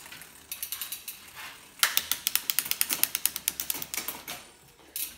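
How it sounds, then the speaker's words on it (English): A mountain bike chain clicks across the derailleur cogs in rapid ratcheting bursts, quiet and close, with a few sparse ticks first and then a dense run of sharp clicks. "you're gonna start to hear the chain start to tighten a little bit, and it should pop up"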